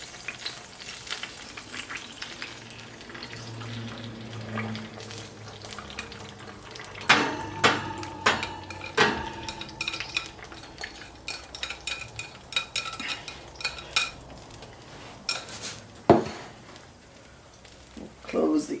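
Yorkshire batter hits smoking-hot beef fat in a tin, giving a busy sizzle and crackle with scattered clinks of pans and utensils, a burst of sharp clatter midway, and someone talking over the kitchen noise.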